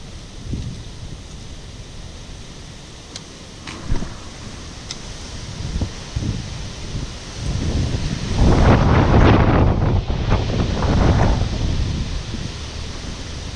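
Strong wind gusts buffet the microphone outdoors beside water during freshwater snakehead fishing, low rumbling bursts building into a loud, sustained roar in the second half with no talk.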